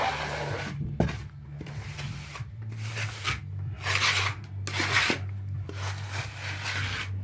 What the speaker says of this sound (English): we're going to take our plastic float and we're going to compress them edges in and rub them edges back